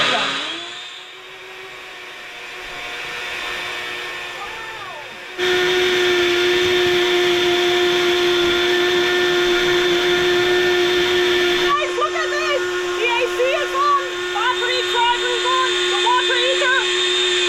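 A blender whirs steadily on a portable solar power station, a loud continuous motor drone with a whine, joined by other fluctuating machine noise toward the end.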